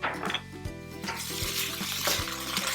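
Carrots seasoned with salt and pepper fry in a pan with a steady soft sizzle, broken by a few scraping stirs and clatters of the cookware.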